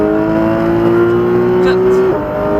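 Porsche 991 GT3 RS pulling hard at full throttle on the La Ferté circuit, a loud, steady in-car engine drone that dips briefly near the end, with a driving instructor talking over it.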